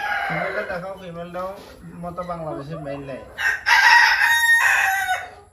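Farm chickens cluck and a rooster crows loudly near the end, following a stretch of clucking and calls close by.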